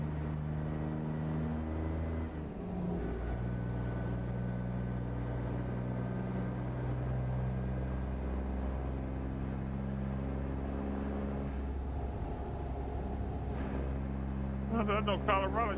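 Simulated truck engine with turbo whine in American Truck Simulator, a steady droning engine hum with rising and falling tonal whine, and someone talking over it.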